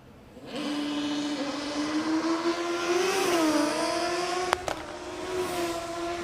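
A Formula Student combustion race car making a full-throttle acceleration run, its engine note climbing loud and close through the gears with a sharp pop on an upshift partway through.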